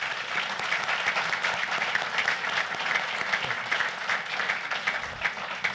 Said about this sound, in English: let's give them a round of applause for their coaches